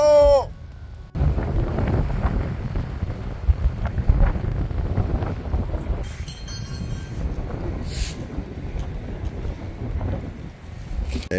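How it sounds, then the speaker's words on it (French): Wind buffets an outdoor microphone near the sea, a steady low rumble lasting several seconds. Brief faint sounds cut in near the end. "Il y a du vent!"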